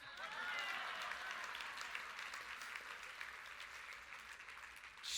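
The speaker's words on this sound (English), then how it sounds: "Round of applause for April." A round of applause from the audience at an evening entertainment magic show, sustained clapping that starts strong and tapers slightly, alone without talk.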